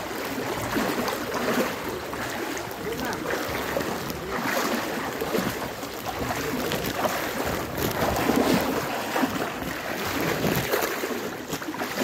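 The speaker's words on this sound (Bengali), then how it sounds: "রোডের উপরে নৌকা চলছে।" A boat travels through deep floodwater covering a road during relief distribution, giving a steady, continuous wash of water and wind noise with no voices.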